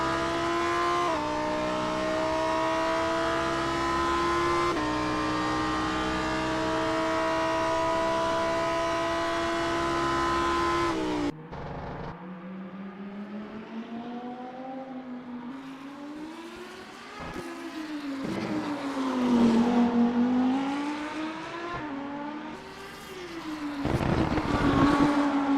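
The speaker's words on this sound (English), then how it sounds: "Switching to Gilles Lalonde on board in the number 203 Lamborghini STC." Onboard engine of the number 203 Lamborghini STC race car in a Super Trofeo Cup race at Detroit, a high steady wail that cuts off and then rises and falls through gear changes, close and loud.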